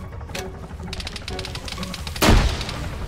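Rapid bursts of gunfire in the military shooter Arma 3, a dense crackle of shots capped by one loud, close blast near the end, with no talking.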